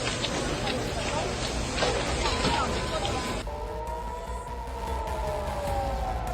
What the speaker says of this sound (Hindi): तेल अवीव में सायरन की आवाजें बंद नहीं हो रही।